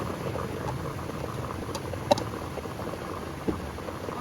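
Meat going into a pot of oil for beef biryani, a steady low sizzling and bubbling with a few small clinks and pops, close and moderately quiet.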